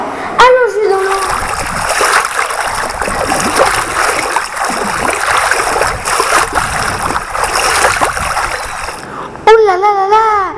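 Cartoon water splashing and spattering at a waterfall, a steady broadband wash of water with a sharper splash near the start and another near the end, bright sweeping cartoon voice tones at both edges.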